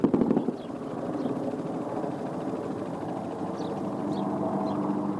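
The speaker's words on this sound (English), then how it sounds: "There's 2 Apache helicopters and an A-10 tank buster." A low, steady rotor drone of Apache attack helicopters overhead, continuous and moderately loud with a slight pulsing throb.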